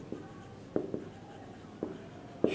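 Writing out an equation by hand, a few soft scratchy pen or chalk strokes in irregular bursts against quiet room tone, with no talking.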